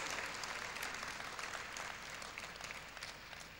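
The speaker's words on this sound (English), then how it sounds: "Shall we give him a rousing round of applause?" Steady, dense round of applause from an audience at a university convocation lecture, continuous and fairly distant-sounding across the whole stretch with no talk over it.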